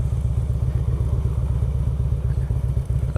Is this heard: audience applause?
no